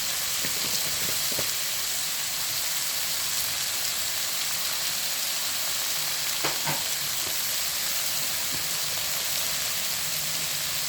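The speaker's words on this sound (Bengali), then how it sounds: "সবজিগুলো ভালোভাবে আমি ভেজে নিচ্ছি।" Vegetables sizzle steadily in hot oil in a pan, seasoned with a little salt and turmeric. The frying hiss is close and continuous, with a few scraping stirs and no talking.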